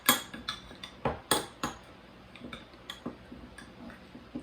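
Dried chili spice blend being mixed with a crumbled beef oxo cube. It sounds like a quick series of light clicks and clinks of a utensil against a container, close by, with uneven gaps between taps and no talking.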